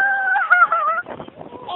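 An angry mother duck with her ducklings gives loud, harsh honking quacks, a sustained nasal call followed by a rougher broken burst, close to the microphone.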